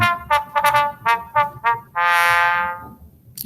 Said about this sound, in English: Trombone.